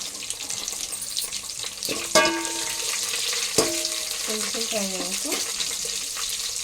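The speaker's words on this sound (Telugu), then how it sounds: "పచ్చిమిర్చి, తర్వాత ఎండుమిర్చి. ఇవి కొంచెం ఫ్రై అయ్యాక" Green chilies and dried red chilies fry in hot oil with a steady close sizzle, broken by a few sharp clinks and pops of a spoon against the pan.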